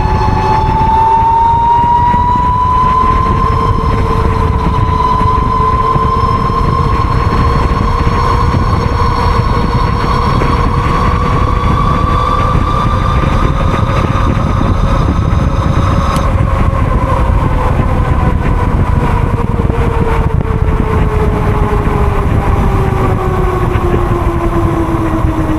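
A Wired Raven motorcycle on a quick road ride gives a loud, continuous whining drone whose pitch rises and falls gently. No one speaks.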